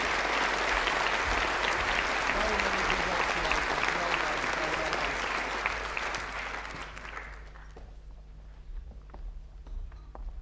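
Applause from a large audience at a university graduation ceremony, a dense steady clapping that carries on for several seconds and then thins out and fades, leaving a quieter hall with a faint low hum.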